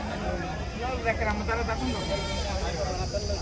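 Goats bleat at the Gudur livestock market, several wavering calls rising over a dense, constant crowd hubbub, with people talking throughout.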